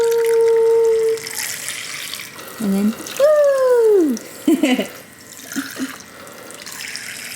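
A sink faucet runs steadily, filling the basin during a toddler's water play at home, while a small child squeals and coos and an adult speaks briefly over the flow.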